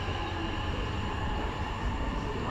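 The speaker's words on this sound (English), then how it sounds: "Must be the third rail doing it or something, making that noise. I've never heard that much on 450s before." A Class 450 electric train on third-rail track gives off a steady, dense rumbling roar with a faint whine, close and continuous, with no voices.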